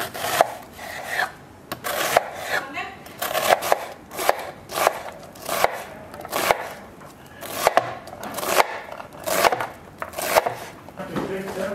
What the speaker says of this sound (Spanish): También la cebolla la voy a picar en cuadritos pequeños.